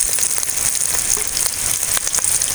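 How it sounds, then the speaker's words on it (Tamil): Green chili, garlic and small onions sautéing in hot oil with mustard seeds and fenugreek, a steady dense sizzle with faint crackles throughout, close and fairly loud, no voices. "பச்சை மிளகா பூண்டு வெங்காயம்லாம் வதங்கிட்டு இருக்குங்க"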